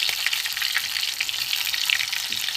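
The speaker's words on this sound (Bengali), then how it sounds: "বাটা মাছের চপ এটা উল্টো পাল্টা একটু ভেজে নেবো লাল করে" Ground fish chops made from bata fish fry in hot oil in a pan, giving a dense, continuous close sizzle and crackle that stays even throughout with no voices.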